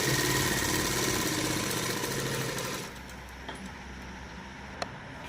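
A sewing machine runs steadily as it stitches a salwar hem, a fast, even mechanical whirr that stops partway through and leaves a quieter hum with a few faint clicks.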